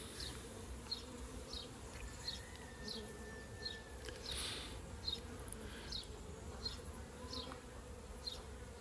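Honey bees buzz close by in a backyard while being moved from a mini nuc into a new hive box, a soft, continuous humming drone with individual bees passing near the microphone, and no talk.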